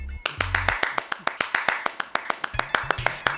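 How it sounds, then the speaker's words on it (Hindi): A single person claps hands in a quick, steady rhythm, sharp regular claps close by, with a few low electronic tones underneath. "ये तालियां कौन पीट रहा है"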